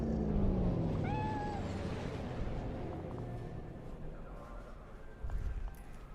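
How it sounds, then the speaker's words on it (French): A cat meows inside a clinic waiting area in Cyberpunk 2077, one short rising-and-falling mew over a low background hum, fairly faint and alone. "Un chat."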